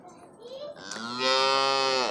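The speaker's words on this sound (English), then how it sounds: "And these are the cows." Cattle on a village farm give a long, loud moo close by, rising and sustained, after softer faint sounds at the start.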